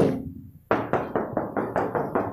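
Knuckles rap the metal body panel of a 1994 Suzuki Realvan: one opening knock, then a brief pause and a quick run of about seven close, hollow, evenly spaced knocks.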